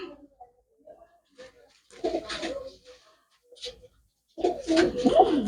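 White-eyed pigeons with red necks and white beaks coo in short, throaty bursts at moderate distance, separated by quieter gaps, with a louder run of cooing near the end.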